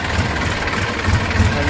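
A tractor engine runs in a farm field where grass is gathered into heaps, giving a loud, steady, close rumble with no breaks.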